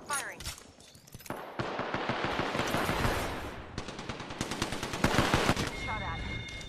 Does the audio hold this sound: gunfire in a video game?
yes